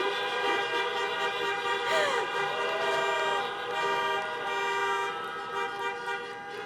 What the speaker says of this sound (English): Please honk your horn now.